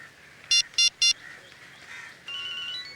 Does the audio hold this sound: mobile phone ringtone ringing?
yes